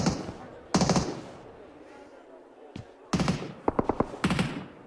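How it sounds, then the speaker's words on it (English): Gunfire in PUBG Mobile during an esports grand final match, with bursts of rapid automatic shots and sharp single cracks spaced across the moment, some near and loud, amid background game ambience. "There's been bullets whizzing through the windows for a while"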